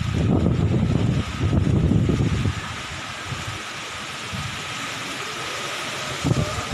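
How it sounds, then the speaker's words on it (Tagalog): Strong, roaring typhoon wind batters the microphone in heavy gusts at a house in Vinzons, Camarines Norte, loudest in the first few seconds, with a steady rushing background throughout. "Sobrang lakas pa ng hangin."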